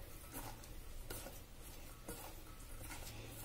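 Chopped onions being mixed with salt and spices for onion pakoda give a soft, continuous rustling stir with faint scraping, quiet and close, with no talk.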